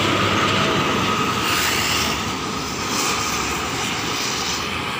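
An intercity Dedi Jaya bus roars past close by, a loud steady engine and road rumble that swells and holds for several seconds with no talk over it.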